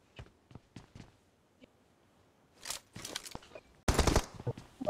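Gunfire in the battle royale game PUBG during a solo match: a few sparse sharp shots early, then a loud dense burst of rapid firing with impacts toward the end, no talk.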